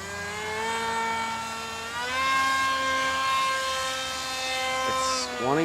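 The motor of a radio-controlled Alpha Jet model plane whines steadily in flight, rising in pitch as it speeds up and then sweeping sharply up at the end.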